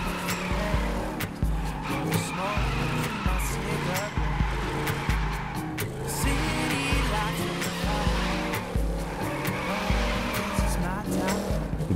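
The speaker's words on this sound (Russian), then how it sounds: "Дрифт в этой игре реально очень хорош." Car drifting in The Crew 2 racing game, with steady engine roar under long, wavering tire squeals that rise and fall across the whole stretch, loud and close.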